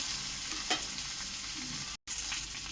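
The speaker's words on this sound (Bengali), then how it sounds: "এটা ভালো করে লাল লাল করে ভাজবো।" Fish roe frying in a pan gives a steady close sizzle with light scraping of stirring, briefly cut out near the end; no voices.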